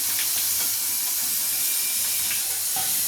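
Urad dal vada deep frying in hot oil, giving a dense, steady hissing sizzle that stays loud and even throughout, with a few faint bubbling pops and no voices.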